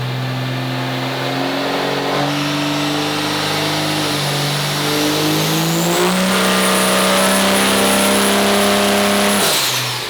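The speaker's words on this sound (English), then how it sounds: "We're going to run this thing on the dyno." A 1200-plus horsepower, fuel-only 5.9L race truck engine runs on a dyno, loud and close, its tone climbing in steps through rising revs before cutting off abruptly near the end.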